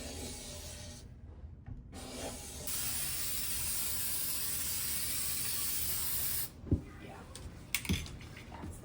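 An aerosol can of spray frost hisses onto a window pane in one long, steady, close blast, followed by a few faint knocks and handling sounds.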